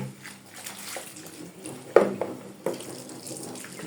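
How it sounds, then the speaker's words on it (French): Tap water running into a basin to rinse laundry washed with Gama detergent, a steady moderate stream with a couple of brief splashy surges partway through, no talking. "On va remettre un peu d'eau."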